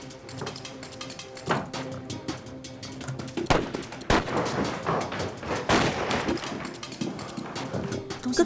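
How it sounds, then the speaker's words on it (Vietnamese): Gunfire in an anti-Japanese war drama: loud bursts of rifle and machine-gun shots, some sharp single cracks and rapid volleys, echoing over a busy background. "Tôi nghe thấy tiếng súng."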